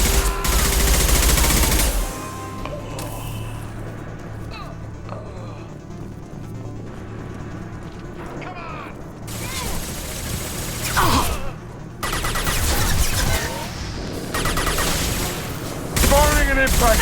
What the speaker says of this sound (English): Firing an impact shot. This burn through any armor.